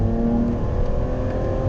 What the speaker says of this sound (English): what better way to check the exhaust note than on an A road?